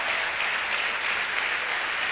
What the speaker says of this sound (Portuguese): Você pode dar a ele, a Jesus, uma linda salva de palmas.